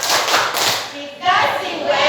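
A school class performs a rhythmic spirit clap (tepuk semangat), with bursts of patterned hand claps and thumps from many children, loud and close, broken by a short pause midway.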